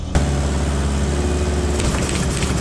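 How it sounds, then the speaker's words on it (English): Car engine held at a loud, steady high rev during a burnout test on 3D printed tires, a close, continuous roar that barely wavers across the short stretch, with no talking. "Okay, giving it the gas."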